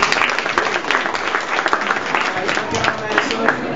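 Audience applause at a makers festival, a continuous, fairly loud crackle of many people clapping that runs throughout without a break.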